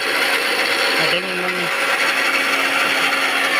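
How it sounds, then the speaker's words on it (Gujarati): A mixer grinder blending gravy whirs loudly and steadily throughout, a constant high-pitched motor roar with a brief dip in tone partway through. "આપણે ગ્રેવી કરીએ છીએ મિક્સરમાં"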